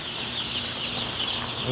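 Broiler chickens cluck steadily in a crowded barn holding about 13,000 birds on the floor, a dense, continuous flock chatter at close range with overlapping calls.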